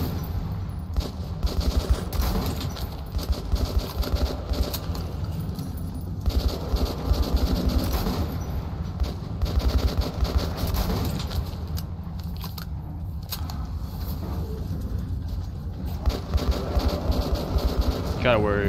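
Shotgun blasts and chaotic combat against beasts in Metro 2033 Redux, with dense, loud, repeated bursts of gunfire running throughout amid constant noisy clatter and voices.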